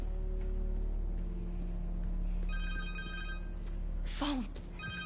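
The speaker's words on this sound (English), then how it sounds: "Phone." A cell phone ringtone sounds in the video game Spider-Man 2. Repeated electronic rings play over a steady game background hum, and a short whooshing sweep is heard near the end.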